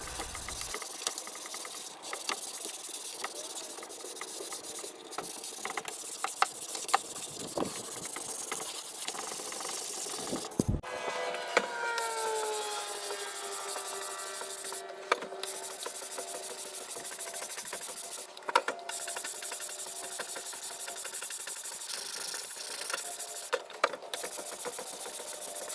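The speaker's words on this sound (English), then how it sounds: "I wish I could really sand as fast as this high-speed" A high-speed power sander whirs continuously on wood pieces for a memorial urn box, with steady rasping hiss, occasional clicks and pauses, and a rising-falling motor whine midway.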